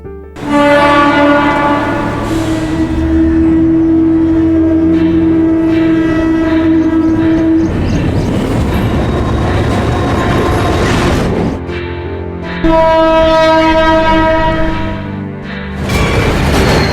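A train passes through Tharamani railway station, its loud horn blaring in long sustained blasts near the listener, broken by a rushing rumble of wagons before the horn sounds again.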